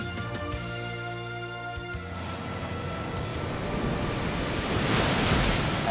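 The Surf move from the Pokémon Let's Go video game plays as a steady wash of crashing waves and surf, loud and continuous throughout and swelling near the end.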